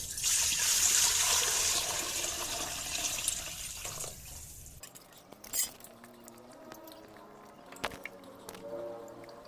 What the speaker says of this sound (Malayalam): ഇനി ഓരോ പീസായിട്ട് എടുത്ത് നമ്മൾ കഴുകുകയാണ്